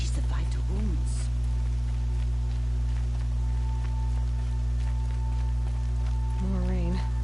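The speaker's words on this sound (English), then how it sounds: "More rain." Steady rain patters over a constant low hum in Horizon Zero Dawn, with a few brief tonal chimes and soft effects drifting in and out.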